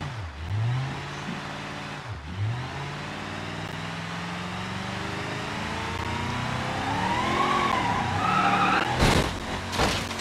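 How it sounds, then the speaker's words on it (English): A car doing burnouts in the BeamNG.drive driving game, with a continuous engine roar and tire screech that rises in pitch and builds toward the end, then a couple of sharp bursts. "Burnouts in this game."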